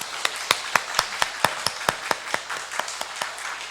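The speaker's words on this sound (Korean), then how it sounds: "우리 귀한 찬양 섬겨주신 우리 호산 성가대에게 우리 기쁨의 박수 하겠습니다" A church congregation applauds the Hosan choir after a Sunday worship service, a short run of sharp, steady claps that thins into sparse hand hits over a quiet room.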